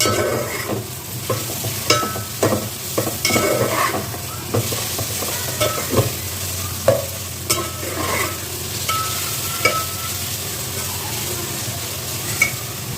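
Kabuli-style mutton pulao mixture, with sugar just added, is stirred as it fries in a pot. A loud, continuous sizzle runs throughout, broken by regular scraping and clanking strokes of the spoon against the metal.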